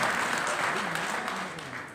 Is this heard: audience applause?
yes